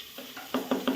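Chopped onion frying with green chillies inside a pressure cooker pot for Maggi, heard as a faint sizzle with three soft, evenly spaced stirring scrapes.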